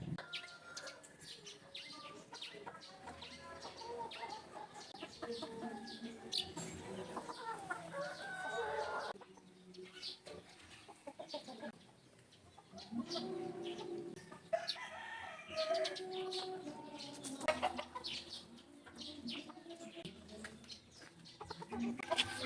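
Backyard chickens, stags and a mother hen, cluck and crow close by in warm weather, with repeated bursts of clucking, a rooster's crow and scattered farmyard noise over a quiet background.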